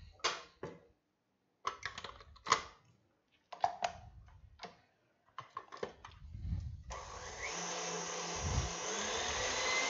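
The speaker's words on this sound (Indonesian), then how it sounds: "kita aduk dengan mixer dengan menggunakan whisk seperti ini" Red velvet cheesecake batter is beaten with a whisk attachment on an electric mixer. Scattered close taps and clatter come first, then a steady, loud, whirring drone runs without a break to the end.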